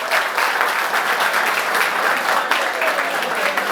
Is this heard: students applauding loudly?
yes